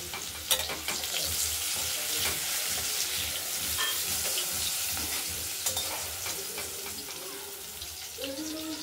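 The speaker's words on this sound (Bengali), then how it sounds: "টমেটোটা আমরা দিয়ে দিলাম এই আলু ভাজার সঙ্গে। এটা আমরা একটু ভেজে নেব।" Chopped tomato fries with potatoes in a pan, a continuous sizzle under repeated scraping and stirring clatter of a spoon, with a few sharper knocks throughout.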